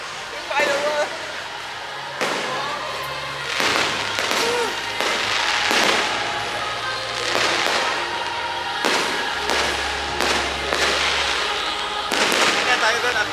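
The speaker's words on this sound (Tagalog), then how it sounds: "Nagtakbuhan na yung mga tao kasi yung fireworks!" Fireworks exploding at a hot air balloon festival in New Clark City, a rapid series of sharp booming bursts and crackles at varying distances, mixed with excited crowd voices and people talking nearby.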